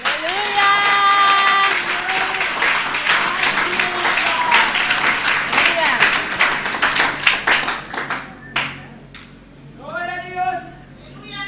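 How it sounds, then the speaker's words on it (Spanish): Church congregation at an evangelistic service in Bonaire applauding after a wedding vow, broad crowd clapping with scattered cheers under overlapping voices and a sung tone, thinning out toward the end as talk resumes. "Un aplauso, hermanos."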